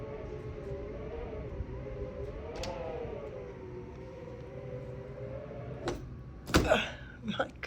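Wind whistles with a sustained wavering tone that is loud and continuous, followed near the end by a few knocks and rustling thumps.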